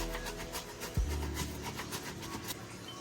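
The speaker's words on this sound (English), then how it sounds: "Just gonna go in there and scrub like so." A brush scrubs the inside of a white canvas shoe, giving a steady near rasping rub with short repeated strokes and a couple of sharp knocks, heard alone.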